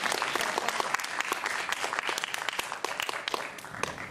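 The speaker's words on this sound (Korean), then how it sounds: "좀 박수 좀 해주세요" A church congregation at a Thanksgiving Sunday service in Vancouver bursts into steady, dense applause, many hands clapping together in a sustained wash that holds evenly throughout.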